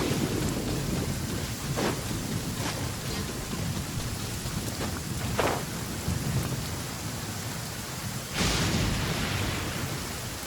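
Steady, heavy rain pours in a Genshin Impact storm. Several thunder cracks and rumbles break through it, the loudest near the end, all loud and close with no talking.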